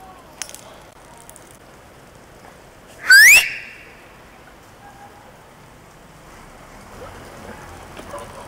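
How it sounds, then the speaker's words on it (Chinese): A sharp, loud whistle with rising pitch, blown once to call a pet, stands out midway against a quiet outdoor background. "还好要听得懂哨声呢"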